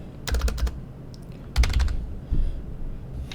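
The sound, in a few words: typing on a computer keyboard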